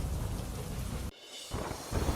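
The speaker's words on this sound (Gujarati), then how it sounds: "નાગુના ગામમાં ધોધમાર વરસાદ થયો" A heavy monsoon downpour in Naguna village, Jamnagar district, roars steadily with deep rumbling thunder, broken by an abrupt cut to a quieter moment before the loud rain returns.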